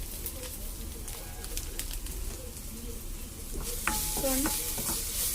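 Fish curry masala gravy frying in a pan crackles and sizzles while a spoon stirs and scrapes it, with pigeons cooing softly nearby toward the end.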